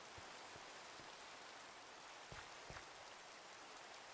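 Steady rain hisses evenly across a Minecraft world, with a few soft drip taps standing out now and then; the sound is faint and unbroken, with no voices.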